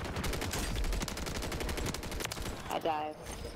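Rapid, dense automatic gunfire in Call of Duty on Rebirth Island rattles continuously for a few seconds at close range, tapering off near the end with a brief speaking voice.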